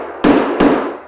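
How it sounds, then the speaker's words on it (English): A hammer knocks nails in while carpet is being laid, two sharp, loud, close strikes about a third of a second apart, each ringing briefly before fading. "then you can start knocking the nails in"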